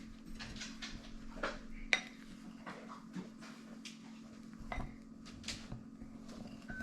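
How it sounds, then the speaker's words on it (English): Keto cookie mix being stirred in a bowl, with a run of light scraping clinks and knocks of a utensil against the dish, irregular and fairly close, over a low steady hum. "it's time to stir"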